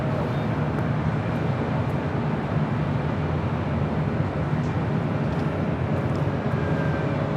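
A jet airliner roars steadily while taking off at LAX airport, a dense continuous engine rumble at constant loudness, close enough to fill the scene without any voices.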